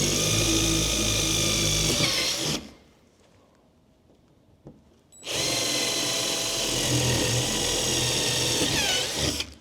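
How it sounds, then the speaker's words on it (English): A power drill whines loudly for a couple of seconds, pauses briefly, then bores steadily again for several more seconds, close up. "you're gonna drill for a little bit and make sure it's deep enough"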